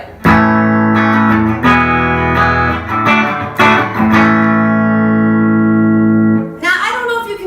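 An electric guitar plays through a Silver Klon Centaur pedal with the output knob turned all the way up, giving a clean boosted tone: several picked notes and ringing chords sustain loudly and close before a brief scrape at the end.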